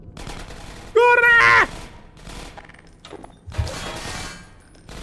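Bursts of gunfire in the game Half-Life 2: Episode 1, a loud sharp volley near the start followed by scattered fainter shots and impacts, mixed with game sounds.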